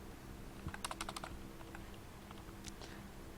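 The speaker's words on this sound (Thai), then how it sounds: "แล้วก็เริ่มพิมพ์คำว่า in main นะครับ" Quiet computer keyboard typing while entering C program code, with a quick burst of closely spaced keystrokes followed by a few scattered clicks over a low background hum.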